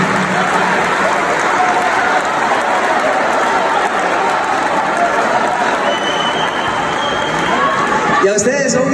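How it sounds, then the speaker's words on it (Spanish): Audience applause for symphony musicians at a live orchestra concert in Fómeque, a dense, steady clapping wash with crowd noise, loud and sustained, ending abruptly near the close. "se merecen otro aplauso"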